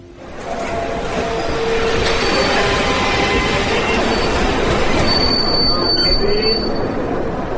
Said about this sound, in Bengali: ট্রেন এলো 10 মিনিট লেটে।